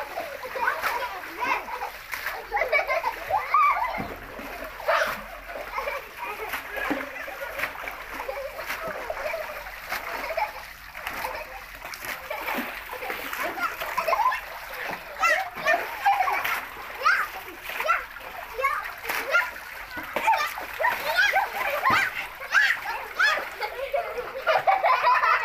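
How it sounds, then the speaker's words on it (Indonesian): Children splashing and playing in a home swimming pool, with continuous water splashes and excited kids' voices throughout, fairly close and steady. "Berenang, Arif."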